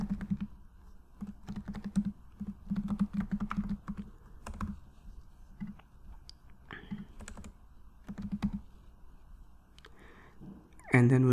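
Typing on a computer keyboard to enter a name for an AWS EBS volume: irregular runs of quick, close keystrokes with short pauses, ending in a sharper louder clack.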